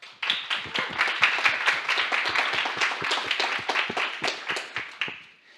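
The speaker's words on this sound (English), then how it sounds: "So just a quick round of applause for our sponsors." An audience at a student competition semi-final gives a short round of applause for the sponsors, a dense burst of many hands clapping that starts abruptly, holds steady and fades out over about five seconds.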